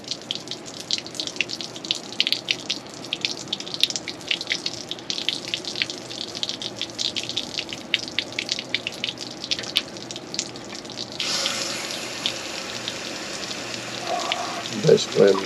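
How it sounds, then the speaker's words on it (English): Water flushes through an RV water heater in a steady, rushing spray with crackling splashes, the tone shifting to a smoother gush toward the end. "Basically, I'm just using water to force any particles out"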